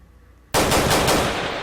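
Rapid burst of video game gunfire from a shooting game set in the Bronx, with a kicked-in door scenario. After half a second of near silence it erupts loud and sustained, dense overlapping shots continuing to the end.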